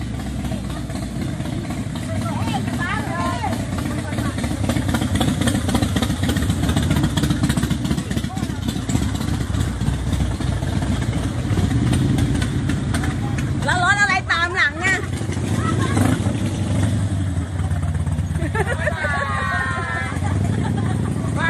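Harley-Davidson motorcycles in Thailand idle and rumble steadily at close range amid crowd babble and street noise, with people talking throughout.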